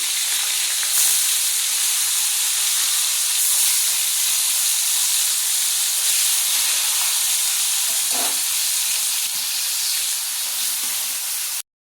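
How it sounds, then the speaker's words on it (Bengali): Amudi fish frying in hot oil gives a loud, steady, close sizzle and hiss, heard alone with no voices and only one brief soft knock near the end. "তো প্রথমে আমুদি মাছটা ভেজে নিই।"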